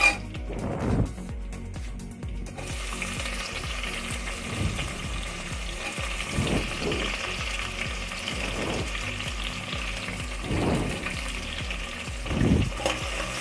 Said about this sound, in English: I'm just going to add the garlic slices. Let us saute this a bit